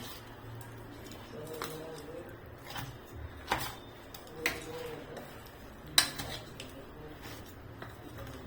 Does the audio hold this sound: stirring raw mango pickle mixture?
yes